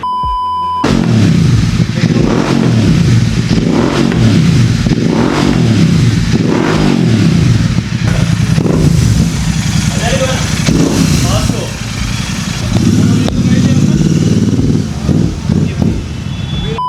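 A Royal Enfield GT 650 motorcycle fitted with a new aftermarket exhaust revs loudly and steadily, with repeated throttle blips over a deep idle.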